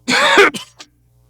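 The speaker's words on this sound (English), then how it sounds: "How long have you had that cough?" A single harsh, throaty cough bursts out up close during a live stage reading of 'The Cask of Amontillado', followed by a couple of short rasping catches before falling silent.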